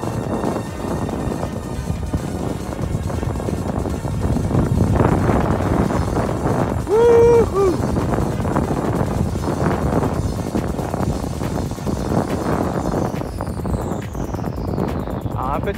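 Steady headwind buffeting a microphone while roller skating outdoors, a low rumbling roar throughout with a brief tonal whine in the middle.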